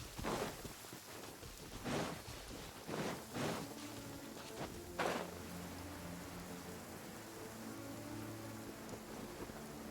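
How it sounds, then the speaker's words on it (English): Rain falling in the video game Genshin Impact, a steady wash of patter with a few sharper splashes and soft rumbles early on, moderately quiet and without talk. "rain won't slow me down"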